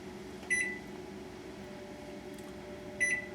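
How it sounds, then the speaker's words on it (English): A microwave oven heats half and half for a lobster ravioli sauce, giving a steady low hum with two short electronic beeps spaced a few seconds apart. "So I put that in the microwave."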